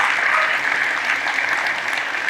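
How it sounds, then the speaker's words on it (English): Dense, steady applause from a large audience at a conference, loud and continuous throughout. "I want to give a huge round of applause for Biology"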